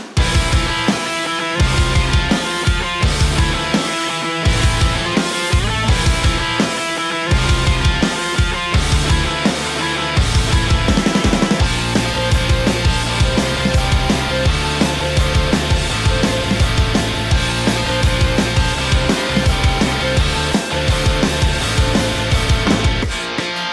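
Pop punk beat: driving drums, distorted guitar chords, bass and a lead guitar riff, loud and dense throughout with no voices.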